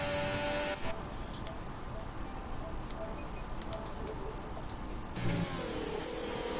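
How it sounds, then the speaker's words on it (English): A Formula 1 car engine drones loudly and continuously in a racing video game set at Spain, with a steady mechanical roar that shifts slightly in pitch. "I had to adjust the volume because his car was deafening me."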